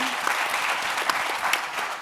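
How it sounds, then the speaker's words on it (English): A live audience at a faith and politics discussion session breaks into dense, steady applause, many hands clapping together at close range with no pauses. "You can clap for that because it's right."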